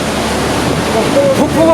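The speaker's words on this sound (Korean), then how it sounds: "폭포가 어마어마합니다." A large waterfall in a lava field on an active volcano, formed by a recent eruption, produces a loud, dense, continuous roar of rushing water heard up close, with faint voices rising briefly near the end.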